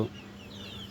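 Desi chicken chicks chirp in short, high-pitched peeps in a poultry shed, several small calls overlapping at a moderate distance with a low background hum.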